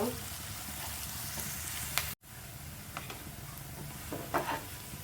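Chopped onion with sliced chili frying in hot oil in a home kitchen, a steady close sizzle with brief scraping stirs and a short cut-out partway through.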